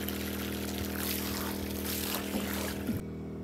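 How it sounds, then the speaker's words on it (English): A steady mechanical drone from a quiet generator with a broad rushing hiss runs throughout, then cuts off sharply near the end, leaving a quieter hum. "That noise is our generator."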